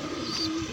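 Pigeon cooing in a short, low, steady hum, close and moderately loud, from a listless, stressed domestic pigeon that has just begun to eat again, with a faint higher tone above it and no talk.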